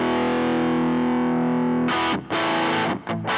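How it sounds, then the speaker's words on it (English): Overdriven electric guitar through a Fender Tone Master Pro, first a long sustained distorted chord ringing out, then a few choppy palm-muted bursts with brief gaps, loud and up close with no talking. "this is a nice little overdrive sound"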